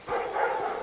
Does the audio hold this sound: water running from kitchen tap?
no